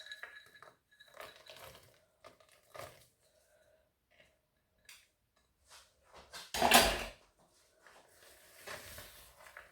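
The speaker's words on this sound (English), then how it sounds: "And then you fold in the walnuts." Walnuts folded into coffee cake batter in a mixing bowl: quiet, intermittent scrapes and light clinks of a utensil against the bowl, then one louder clattering burst near the end.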